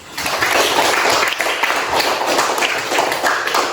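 Students clapping together in a classroom during a geometry lesson on circles, a loud, dense burst of applause that stays steady for a few seconds and then fades slightly at the end.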